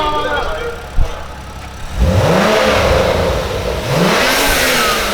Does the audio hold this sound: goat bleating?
no